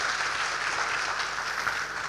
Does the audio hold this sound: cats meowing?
no